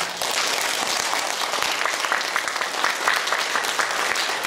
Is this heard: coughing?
no